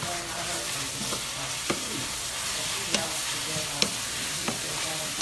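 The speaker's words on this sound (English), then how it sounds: "now I am going to saute these collard greens down." Collard greens sauté in a pan with a continuous loud sizzle, and a utensil scrapes and taps against the pan a few times as they are stirred.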